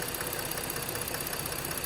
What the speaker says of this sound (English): now it seems that the RPM just dropped down a little bit